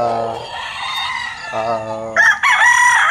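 Roosters crow loudly and repeatedly, their long calls overlapping nearby, with a higher crow breaking in toward the end.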